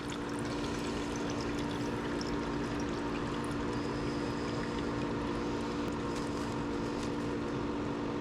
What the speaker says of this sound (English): Quite a bit of oil coming out. We'll let that drain out.